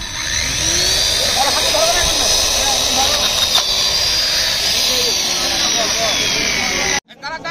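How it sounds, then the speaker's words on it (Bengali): A fire extinguisher sprays in a loud, continuous rushing hiss that runs for about seven seconds before cutting off abruptly, followed by a brief quieter tail. "এটা হলো অগ্নিনির্বাপক দেখার মাধ্যমে আমরা"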